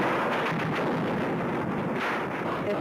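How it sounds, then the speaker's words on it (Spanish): Gunfire aimed at a hotel room during the 1973 coup in Chile, a loud, continuous roar of shooting and rumbling blasts that carries on without a break, with no talk over it. "Están disparando contra esta habitación."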